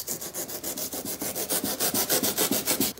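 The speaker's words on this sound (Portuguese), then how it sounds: "Onde não tinha lixado, sai fácil. Onde estava lixado, ele agarrou." Cured expanding foam filling a homemade electric toy Ferrari body is sanded by hand in fast, even back-and-forth strokes, about twenty loud, close rasping passes in a steady rhythm.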